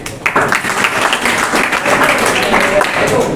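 Steady applause from a live seminar audience on exam stress, continuous dense clapping that fills the whole stretch with a crowd roar and no pauses.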